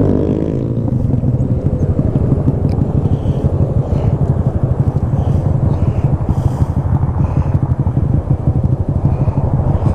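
A motorcycle rides through a small Iowa hometown, its engine droning steadily and close for the whole stretch, with a fast pulsing rumble and wind buffeting the microphone.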